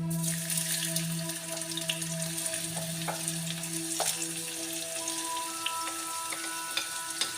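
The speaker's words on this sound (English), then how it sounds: "drop a little bit of onion in there" Chopped onion sizzles in hot ghee in a cast iron pan, a steady close crackle and hiss with scattered pops running alone throughout.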